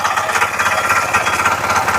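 A power tiller engine running in second gear, a loud close rapid pulsing mechanical chug that stays steady and unbroken throughout.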